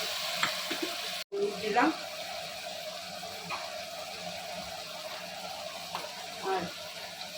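Water splashes into a pan of Malabar spinach cooking with fish bones, a soft gushing sizzle followed by stirring scrapes under a quiet voice speaking.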